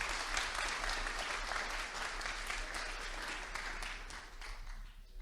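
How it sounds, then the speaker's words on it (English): Audience at a Python programming conference talk gives a round of applause, a steady, moderately distant patter of many hands clapping for about five seconds with a low hum underneath. "I think we can get a round of applause"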